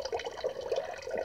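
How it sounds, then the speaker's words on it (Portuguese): A small pump moves water through a fountain in an orchid house, giving a steady close trickling and splashing flow with faint gurgles, continuous and without voices. "instalar a bombinha e ela mesmo vai fazer a sucção da água"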